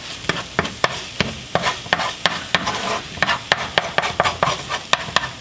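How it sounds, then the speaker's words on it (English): Vegan egg is stirred into a scramble in a hot pan, a steady run of quick utensil scrapes and taps against the pan over a soft, continuous sizzle. "I'm gonna go ahead and start making this into a scramble"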